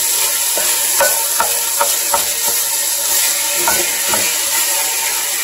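Ground meat cooks in a pot for lasagna soup while a flat-bottomed spoon breaks it apart, giving a steady close sizzle with repeated soft scraping taps throughout and no voices.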